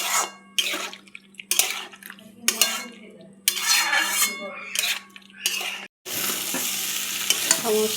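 Spices with coriander leaves, ginger and green chilli paste sautéed in a pan, with repeated scraping stirs and clinks of a utensil over a steady sizzle, a low hum underneath, and a short pause before the frying resumes.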